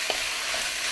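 Beef sizzling as it is stir-fried in a pan for a Thai herb stew, a short steady hiss with a faint utensil tap at the start.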